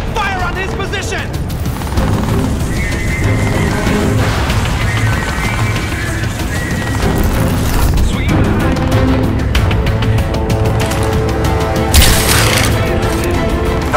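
Crysis 3 combat: sustained gunfire and EMP blasts, dense booming bursts and crashing impacts layered over a continuous game soundtrack, loud and close, with a voice briefly audible.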